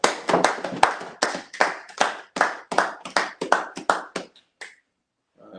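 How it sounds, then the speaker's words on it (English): A congregation at a Sabbath service claps for a brother, sharp rhythmic hand claps in quick bursts that thin out and stop, leaving a short quiet tail. "Clap it up for the brother."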